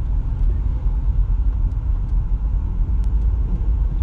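Car driving along a beach-front road in Praia Grande, with a steady low engine rumble and continuous road noise from inside the cabin, close and fairly loud, with faint small clicks.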